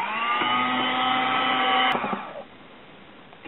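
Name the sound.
electric hand mixer whipping egg yolks at medium speed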